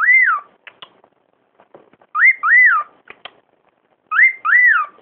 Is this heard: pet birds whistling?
yes